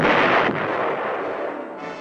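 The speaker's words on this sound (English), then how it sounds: "The self-propelled 155-millimeter howitzer," A self-propelled 155 mm howitzer fires a single loud, close booming round, whose rumbling roar decays over about two seconds.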